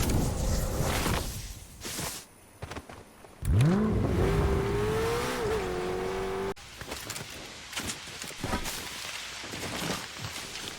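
Car engine driving in the Fortnite video game, a rising rev sweep climbing then holding steady, with whooshes and game effects around it, fairly loud and close.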